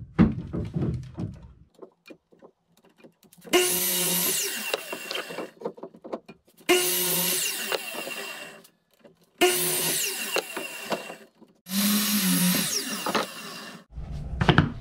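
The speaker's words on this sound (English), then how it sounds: "We're going to cut four of those out over at the miter saw." A miter saw slices through treated lumber in four separate cuts, each a loud whining burst a couple of seconds long, separated by quiet pauses with light wooden knocks and handling.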